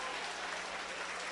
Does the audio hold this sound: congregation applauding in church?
yes